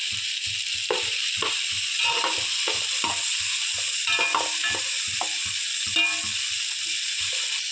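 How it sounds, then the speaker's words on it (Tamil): Cumin and black pepper sautéing with tomatoes for a Kongu-style oil brinjal dish: a steady hiss of frying runs throughout, broken by regular scraping strokes of a spoon against the pan at a quick, even rhythm. No voices. "இப்போ நம்ம ஜீரகமும் மிளகையும் இப்போ போட்டு அதையும் 2 நிமிஷத்துக்கு வதக்கிக்கலாம்"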